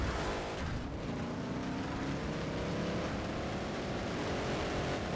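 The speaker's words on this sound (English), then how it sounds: "I like how you can't even hear Minos when this car is just fucking blasting" A car engine in the off-road racing game FUEL roars loud and continuous on a salt flat, a dense, harsh wall of engine noise with a faint rising tone underneath and no pauses.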